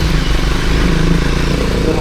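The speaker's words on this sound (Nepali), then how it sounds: "बाइक चाहिँ अफरोड मोड हाल्नुपर्ने स्थिति देखिसकेको छ। डुङ्डुङ डुङ्डुङ गर्छ।" A Triumph Scrambler 400X or KTM Duke 200 motorcycle engine thrums with a low, steady, close rumble on an off-road ride in Nuwakot, under a voice.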